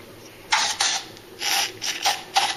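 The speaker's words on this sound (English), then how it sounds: "So we're just going to spray that inside of them." Mold release is sprayed inside fishing lure molds in several short hissing bursts in quick succession, near and moderately loud, with brief pauses between them.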